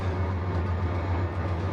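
A locomotive in the Trainz 22 railroad simulator climbs uphill on the Bakersfield to Mojave route, giving a steady low engine drone and rail rumble that holds constant throughout.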